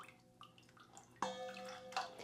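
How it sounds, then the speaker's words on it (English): Water pours in a short splash from a measuring cup into a bowl, followed by a few trickles and drips, close and fairly quiet indoors. "Dump a little bit of the water out"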